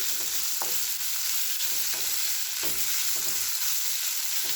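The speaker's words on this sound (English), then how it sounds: "Saute it like till the onions are translucent." Onions with ginger and green chili sauté in a pan with a steady sizzle, broken every second or so by a spatula stirring and scraping through them.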